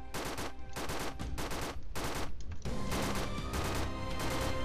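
Rapid gunfire from the Roblox game Zeppelin Battle rattles in fast automatic bursts, close and steady, with short gaps between volleys.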